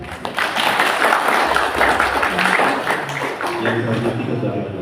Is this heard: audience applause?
yes